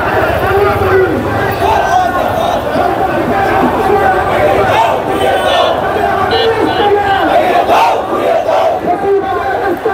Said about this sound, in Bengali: মিছিলের পিআরের পক্ষে স্লোগান আসছে